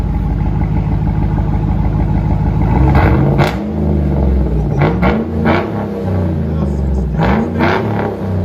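A 2012 GMC Yukon Denali's 6.2L V8 with a Flowmaster Outlaw exhaust, resonator and tailpipe cut off, idles loudly then revs in several sharp, rising bursts, close by with a deep rumbling tone throughout.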